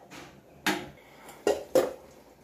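Metal pot and lid clatter while cooked rice is drained in a home kitchen, with three sharp clanks spaced over a couple of seconds against a soft background.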